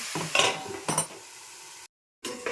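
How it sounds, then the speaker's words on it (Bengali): Food with turmeric fries in a pan, heard as close scraping stirs and sizzling bursts with a few utensil clinks, broken by a brief stretch of silence. "ভেজে দিচ্ছি"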